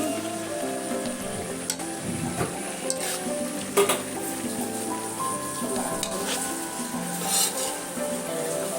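Chopped tomatoes frying and being stirred in a pan for a restaurant-style paneer dish, with a steady close sizzle and occasional scrapes and clinks of the spoon against the pan.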